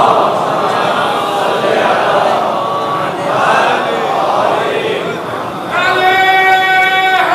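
Audience at a Muharram majlis gathering chanting religious slogans together, a loud crowd calling out in rising and falling waves, with a voice leading and the chant swelling again near the end.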